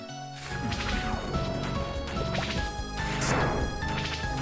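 Chaotic game combat with repeated smashing and whacking impacts, swooshes and clattering effects layered densely over a busy musical background.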